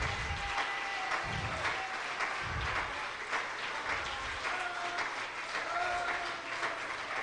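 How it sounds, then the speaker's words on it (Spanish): A church congregation claps steadily for several seconds in a continuous, moderately loud patter, with faint sustained musical tones and some low thumps underneath. "Denle un aplauso a Cristo, que Él se lo merece."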